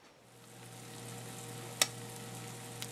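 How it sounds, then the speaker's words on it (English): Bologna and potatoes sizzle steadily in a hot pan, a constant crackling hiss with a low hum beneath and a couple of sharp clicks, no voices. "We are frying up the bologna"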